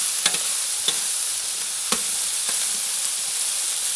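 Garlic and butter fry in a pan with turbot, giving a steady, close hiss and sizzle with a few soft clicks of stirring, no talk.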